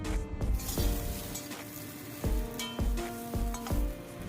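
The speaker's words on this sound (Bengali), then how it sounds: "এর মধ্যে দিয়ে সামান্য নেড়ে চেড়ে নেব।" Chicken 65 sizzles in a pan while a spoon stirs it, sending sharp metallic scrapes and knocks against the pan at irregular intervals over a steady frying hiss. The sound is close, with no talk.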